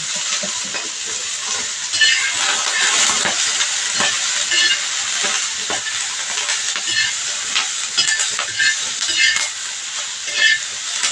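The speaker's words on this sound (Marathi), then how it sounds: "मिरच्या व्यवस्थित भाजायला पाहिजे." Green chilies roast in a little oil in a pan, a continuous close sizzle and hiss with stirring scrapes and small spattering pops, no speech.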